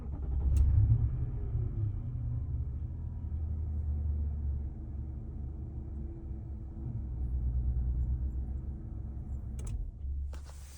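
A Nissan Patrol Y62 engine with a newly replaced starter motor runs close by as a steady, deep low rumble for about ten seconds, with a brief rattle near the start and a faint click near the end.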